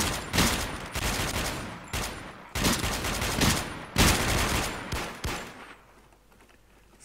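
Bursts of gunfire in the WarMode shooter on the Dust2 map, several loud volleys of rapid shots coming in clusters with short gaps, then trailing off into quieter background near the end.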